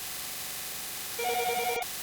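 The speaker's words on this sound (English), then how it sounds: "I got a phone call." A telephone ringtone sounds for an incoming call: a short, bright, warbling ring rises briefly over a steady hiss, then cuts off with a sharp click.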